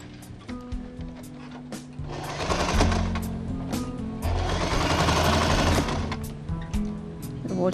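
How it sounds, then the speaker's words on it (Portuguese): A sewing machine stitches floral fabric onto an organiser toiletry bag. It rattles in rapid bursts, with a longer steady run in the middle, and someone talks quietly in between. "Eu costuro esse tecidinho aqui na necessaire."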